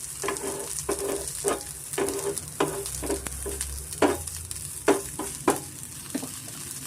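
Drumstick leaves fry in oil in a pan, a continuous crackling sizzle broken by a regular series of sharp scrapes and taps as a spatula stirs them, close and fairly loud.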